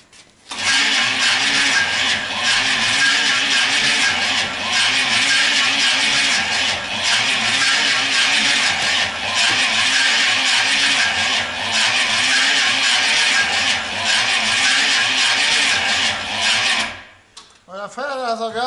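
A GMC Vandura engine starts and runs rough, a loud, steady, raspy mechanical drone with a pulsing uneven character lasting about seventeen seconds before cutting off abruptly.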